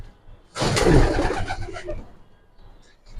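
A silver Giribaz pigeon on a rooftop gives a close burst of cooing and fluttering that lasts about a second and a half, then fades to near quiet.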